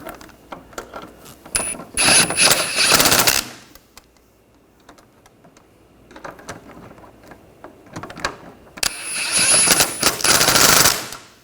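Ratcheting wrench tightening the shock absorber mounting studs on a 2013-2019 Ford Escape rear suspension, rapid clicking pawl bursts in two long runs with shorter bursts between, close and loud.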